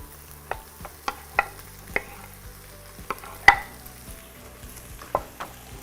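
Tomatoes going into a hot frying pan while cooking apple dolma: a soft steady sizzle with a series of sharp clacks and scrapes from a spoon stirring against the pan, irregular and close, with no talking.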